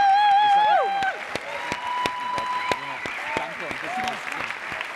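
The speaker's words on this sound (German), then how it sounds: "Das ist euer Applaus." Congress audience applauding the helpers who made the 2020 international Cradle-to-Cradle congress possible, steady clapping with music playing over it and a voice in the first moments.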